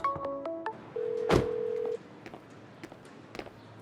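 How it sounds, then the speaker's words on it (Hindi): A rapid series of keypad dialing tones beeps, then a longer single tone sounds, followed by faint rustling and light knocks. "मैं हान को फोन कर रही थी।"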